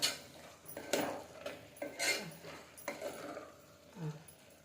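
Spoon scraping and clinking inside a pressure cooker while spices are stirred into ridge gourd curry, a series of soft irregular metallic scrapes and taps, faint and close.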